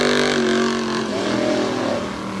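A Tuff Truck race truck, Tony Martinez's bulletproof machine at the 2021 Hughesville Tuff Trucks event, revs hard while hung up on a jersey barrier. The engine roars loud and close as one steady drone whose pitch sags and swells slightly.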